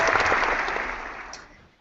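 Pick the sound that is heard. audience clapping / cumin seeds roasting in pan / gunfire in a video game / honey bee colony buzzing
audience clapping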